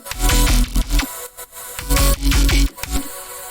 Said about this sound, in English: And then I added this vocal chop over the top.